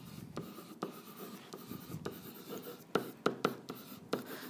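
Pen scratching out an equation on paper by hand, a run of short strokes and taps in an uneven rhythm, close and quiet, with faint speech in the background.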